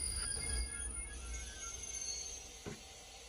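Night train Lovćen rolling along the mountainous, mostly single-track Belgrade–Bar railway: a steady low rumble of wheels on rail with a faint high squeal, heard from inside the carriage, and one brief clunk near the end.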